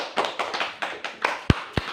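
A classroom group of students claps in applause, rapid overlapping claps over about two seconds, ending with a few sharp, louder individual claps close by.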